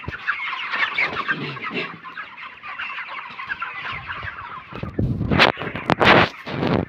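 Chickens cluck and murmur continuously nearby, with a burst of louder squawks and flapping toward the end.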